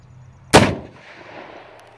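A single loud, sharp rifle shot from a Remington 1903 A3 fired at a steel silhouette target 125 yards away, followed by a fading echo and a faint trailing ring.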